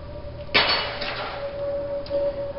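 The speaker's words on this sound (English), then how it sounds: "So we'll cut that out using our tin snips." Tin snips cutting metal for a small hive beetle trap bottom board give one sharp metallic clang near the start, with a quieter click later.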